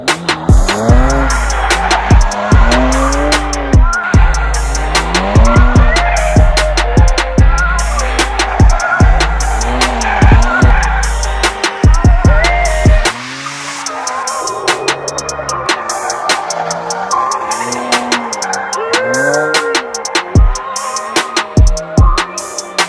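A BMW 335i's tires squeal in repeated loud bursts during a burnout, the screech rising and falling over a roaring, revving engine for over twenty seconds, with sharp gear or throttle pulses breaking the rhythm.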